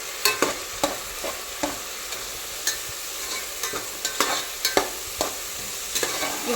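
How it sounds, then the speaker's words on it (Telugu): Tomato puree frying with onion in oil, a soft steady sizzle with repeated sharp clicks of a spoon stirring against the pan, close by and alone. "దాన్ని మంచిగా ప్యూరీ లాగా చేసుకొని ఈ మన ఆయిల్లో వేసి ఈ ఆనియన్తో మంచిగా వేస్తున్నాను."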